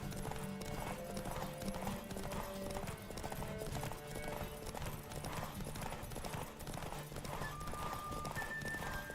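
Rapid hoofbeats of a galloping horse in the video game The Witcher 3: Wild Hunt pound steadily throughout, with a brief whinny and a musical backdrop underneath.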